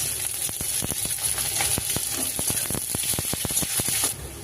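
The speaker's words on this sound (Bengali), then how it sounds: "পেঁয়াজটা একটু ভাজা ভাজা হয়ে এসেছে" Chopped onion frying in hot oil with garlic and whole cumin hisses steadily at close range, broken by many sharp pops and crackles.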